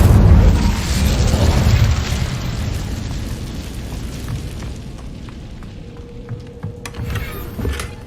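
A fire spell cast in the video game Hogwarts Legacy, giving a loud whooshing roar of flame that peaks at the start and slowly dies away. Faint ambient tones and small clicks trail off near the end.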